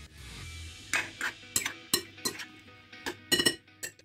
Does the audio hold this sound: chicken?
no